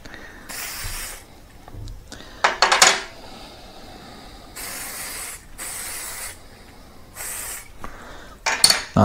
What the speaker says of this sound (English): let's give that a good spray.